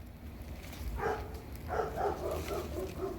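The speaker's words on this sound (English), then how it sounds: "My dogs are noisy." Dogs bark and yip in a cluster of several short calls in the middle distance outdoors in a garden, moderately loud over a low ambient background.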